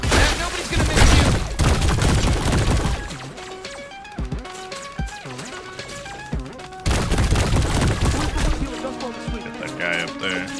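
Rapid bursts of weapon fire from the glob shot gun in the shooter game High on Life, played on Xbox Series X, sounding as dense, loud volleys with booms and crashes over game music.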